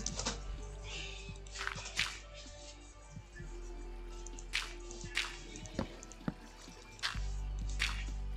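Water dripping inside a tree house after leaking through the roof, a series of distinct, close drips falling irregularly over a quiet, low background hum.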